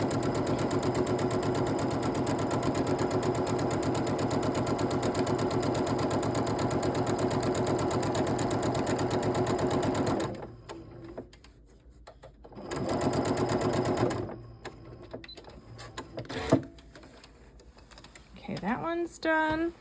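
A sewing machine stitches fabric in a steady, loud mechanical whir for about ten seconds, then stops, with brief bursts of stitching and handling noises afterward and a voice talking in the pauses.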